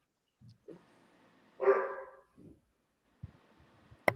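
A dog barks a few times indoors in the background, with short separate yaps and a louder bark near the middle, heard alone without talk.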